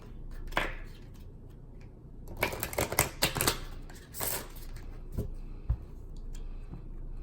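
A deck of Butterfly Oracle cards is shuffled and cut, giving close, dry riffling bursts and sharp taps in irregular clusters, faint in between.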